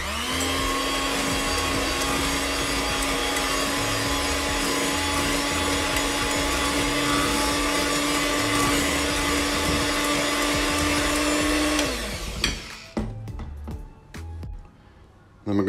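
An electric mixer whirs at a steady, loud pitch while blending cream cheese and softened butter for a lemon pound cake batter. The motor winds down near the end, followed by a few soft clatters.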